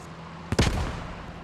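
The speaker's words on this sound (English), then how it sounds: "That was a good grenade." A grenade goes off in the video game Post Scriptum, a single sharp, loud blast with a booming low rumble that trails off quickly over a faint background hum.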